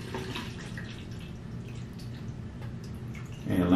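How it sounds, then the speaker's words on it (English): Tap water poured into a film developing tank, a steady wash of running and splashing water that swells louder at the end. "I'm going to just pour a bunch of tap water inside this."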